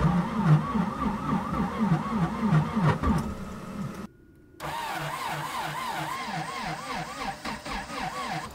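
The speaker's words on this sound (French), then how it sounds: "Bon, du coup, le moteur ne démarre pas" A van engine cranks repeatedly in extreme cold of about -23°C and fails to catch, with a steady rhythmic churning that carries on after a brief pause partway through.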